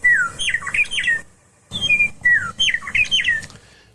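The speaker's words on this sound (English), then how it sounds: "The yellow-breasted, robin-sized bird's song can be heard from quite a distance." Meadowlark song from a yellow-breasted, robin-sized grassland bird: two loud, clear phrases of slurred, warbling whistles separated by a brief pause, close and alone with no talk.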